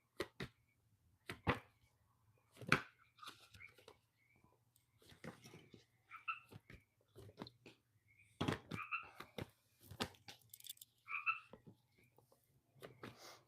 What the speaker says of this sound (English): I know that frog's been going all night too.